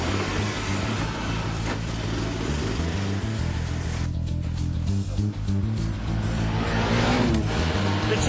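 A Honda Cub motorcycle running on used chip fat drives around a block, its small engine giving a steady, continuous hum and throb close by for the whole stretch with no break.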